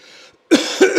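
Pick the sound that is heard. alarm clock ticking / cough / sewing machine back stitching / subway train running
cough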